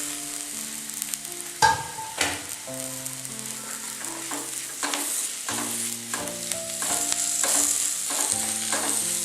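Tomatoes sautéing with onions in a pan for a Kerala egg roast, a steady sizzle broken by repeated scraping and clinking stirs, close and fairly loud with no talking.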